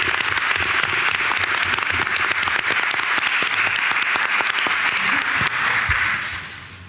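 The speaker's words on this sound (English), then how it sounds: "I want you to give another round of applause to our custodians." Audience at a city board of education meeting applauding school custodians, steady dense clapping throughout that fades out at the end.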